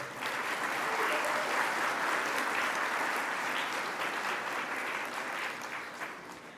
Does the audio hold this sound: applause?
yes